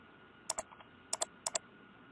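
Computer mouse clicks on a checkbox in a quiet room: three quick double clicks, sharp and close, spaced about half a second apart.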